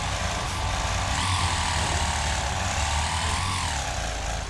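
A lawnmower engine drones loudly and continuously as it is driven in the Wreckfest racing game, its pitch rising and falling as it revs.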